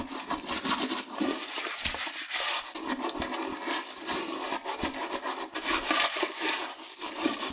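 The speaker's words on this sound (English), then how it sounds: "So I am going to scrub it." Brush scrubbing inside a toilet bowl treated with baking soda and hydrogen peroxide makes close, vigorous, rhythmic bristle scraping strokes that continue throughout, with no speech.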